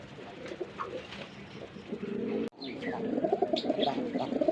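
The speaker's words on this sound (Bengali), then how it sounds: "দেখেন একদম 1500 টাকা হলে নিতে পারবেন সাদা বাগদাদি" White Baghdadi pigeons, a big-sized breed, coo in soft repeated throaty phrases, close by and continuous, with faint chirps of other birds mixed in and no talk.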